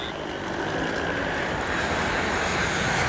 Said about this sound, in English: Eastern Airlines Flight 401 roars past.